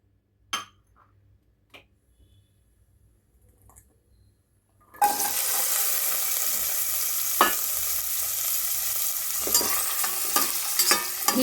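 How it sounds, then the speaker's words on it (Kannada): Chicken for pudina chicken fries in hot oil in a pan, with a loud, steady sizzle that starts abruptly and continues, broken by stirring scrapes. Before the sizzle starts there are a few sharp clinks of utensils in near silence. "ನೀಟಾಗಿ ಎಲ್ಲನೂ ಈ ಥರ ಎಣ್ಣೆಲಿ ಫ್ರೈ ಮಾಡಬೇಕು."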